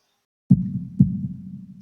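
Two slow, deep heartbeat thumps from a visual novel sound effect, each a soft low double pulse about half a second apart, close and alone after a moment of silence.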